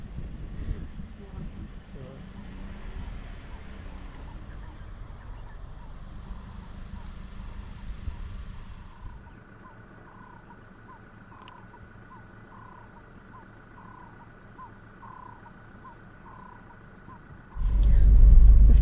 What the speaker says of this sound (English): we left Berg-en-Dal and drove towards Skukuza via the main tar